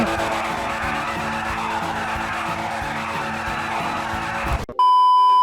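A racing car in the video game Free Fire, with a loud, steady engine roar and skidding tires that continue throughout, then cut off abruptly into a sustained electronic beep.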